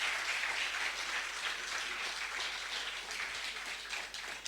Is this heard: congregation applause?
yes